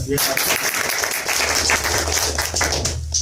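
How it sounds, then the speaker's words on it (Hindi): An audience claps steadily through the whole stretch at a live talk on trading settings, with voices mixed in under the continuous applause. "ताली बजाओ यार।"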